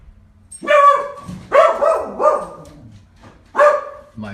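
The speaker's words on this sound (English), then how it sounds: "That's one of our dogs saying hello." Several loud, close barks from a household dog greeting someone arriving home, in about four bursts with short gaps between them and no speech over them.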